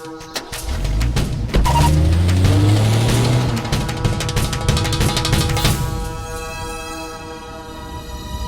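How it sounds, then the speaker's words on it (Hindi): A car engine starts and drives off in a South Indian action film scene, giving a loud, steady rumble with rising revs that settles into a continuous drone. "गाड़ी स्टार्ट करो।"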